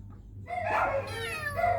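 An abandoned kitten left outside a house gives a thin, wavering meow that rises and bends over about a second, close by over a low background hum.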